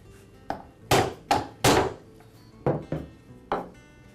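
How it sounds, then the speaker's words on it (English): A rubber mallet strikes the end of a shaft to knock it free, landing about seven dull, solid thuds in uneven bursts, some in quick pairs, close and fairly loud with no talking. "To remove it, I'll strike the end of the shaft with a rubber mallet."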